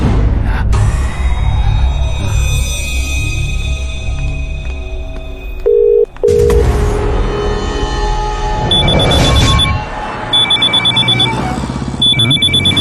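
An electronic ringtone chirps in repeated short bursts over loud, dense music.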